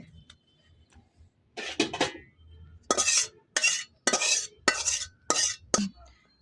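Chicken feet curry is scraped and poured from a cooking pan into a pot, with a series of loud, close metallic scrapes and clatters of a utensil against the metal after a quieter start.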